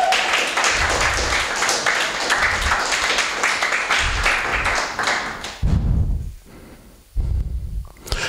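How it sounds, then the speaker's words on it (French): A church congregation claps together in a dense, steady wash of applause for several seconds, then it thins into a few scattered, louder bursts of clapping near the end. "Applaudissons pour la gloire de Dieu."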